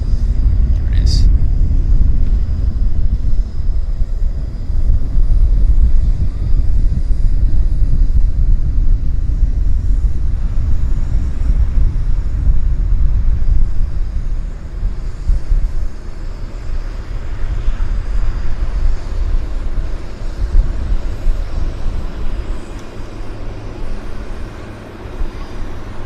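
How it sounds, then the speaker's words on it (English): A Bombardier Q400 turboprop airliner begins its takeoff roll at Vancouver Airport, a loud, steady low rumble of engines and propellers that carries on throughout, with a brief higher whine near the start. "we've got a Q400 on the roll"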